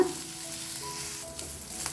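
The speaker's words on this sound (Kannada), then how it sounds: "ಸೊ ಇದನ್ನು ನಾವು ಕೆಂಪಾಗೋ ತನಕ ಹುರ್ಕೊಂಡು ಬರೋಣ" Chillies frying in a pan with oil, a steady soft sizzle with occasional scraping as they are stirred, close and fairly quiet with no talking.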